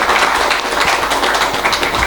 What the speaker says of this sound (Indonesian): Tepuk tangan pemirsa